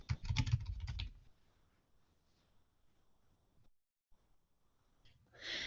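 Quick bursts of keystrokes on a computer keyboard as search words are typed, loud and close at the start, then fading into near silence before another short rustle at the end.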